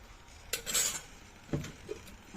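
A metal lid is set onto a cooking pot of bottle gourd curry, giving a couple of clinking, clattering knocks a second apart, close and moderately loud in a quiet kitchen.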